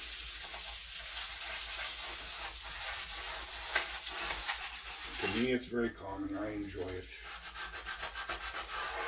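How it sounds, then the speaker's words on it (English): Steady abrasive sanding rasps continuously against a hard surface of a 1962 Impala part being prepared for paint, close and loud, while a person speaks briefly over the scraping. "if you live anywhere close and you need a hand doing some sanding"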